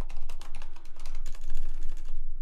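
Names being typed into an Excel spreadsheet on a computer keyboard: a quick, continuous run of close key clicks and taps over about two seconds, with no talking.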